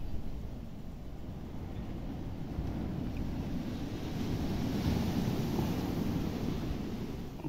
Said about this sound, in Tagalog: Dito kami ngayon sa tabing dagat.